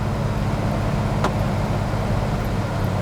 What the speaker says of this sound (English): You have cold air, you can hear it.